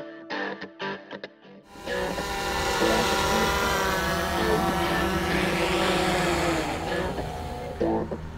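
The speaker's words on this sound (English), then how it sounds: "So I just finished flying the Karma drone" GoPro Karma drone in flight, a loud steady high-pitched buzz of spinning rotors that starts abruptly after a moment of quieter sounds and continues evenly with slight pitch shifts.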